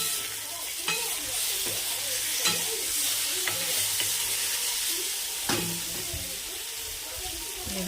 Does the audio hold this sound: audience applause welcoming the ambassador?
no